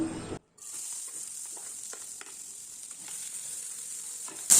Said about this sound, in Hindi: और जब तेल अच्छे से गर्म हो जाए तो मैं इसमें कटी हुई प्याज को डालूँगी